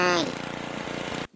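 A lawnmower engine rattles and buzzes in the Happy Wheels game, a harsh close sputtering drone that cuts off abruptly, with a voice-like whine at the start.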